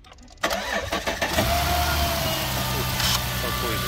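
A car engine cranks briefly and catches, then settles into a steady close idle with a faint higher whine.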